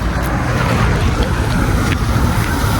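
Rain and rushing wind buffet a scooter on the road from Narayanghat to Nuwakot, a steady loud broadband wash with airflow rumble against the microphone and no clear voices.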